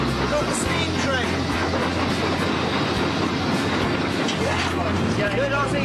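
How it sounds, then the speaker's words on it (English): A coal-fired steam train runs through Victoria, Australia, heard from on board as a loud, constant rumble with rattling and clatter. Voices are mixed into the din. "We got the steam train!"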